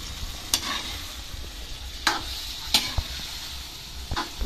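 A utensil stirs a sizzling pan of cardillo, a Filipino fish dish with long green chili, giving a constant hiss of frying punctuated by a few sharp scraping strokes at intervals.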